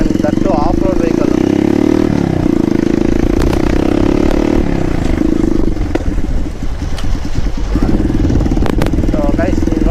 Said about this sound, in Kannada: ಇದಕ್ಕೆ ಅಕ್ರೋಪವಿಕ್ ಎಕ್ಸಾಸ್ಟ್ ಹಾಕಿದ್ದಾರೆ. ಸೌಂಡ್ ಜೋರಾಗಿ ಬರುತ್ತೆ.